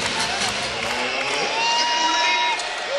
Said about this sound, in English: Another big crowd on hand.